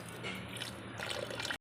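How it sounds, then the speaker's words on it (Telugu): Water poured into an eggplant and potato curry with masala paste in the pot, a steady close trickling pour that ends with a sudden cutoff. "ఇప్పుడు ఒక 2 గ్లాస్ వాటర్ యాడ్ చేసుకోవాలి మనము."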